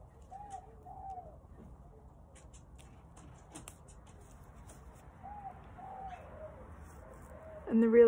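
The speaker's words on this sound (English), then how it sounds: "this morning you can hear the birds" Birds coo softly at a distance in a few short phrases over quiet background hiss, with a louder call close by at the end.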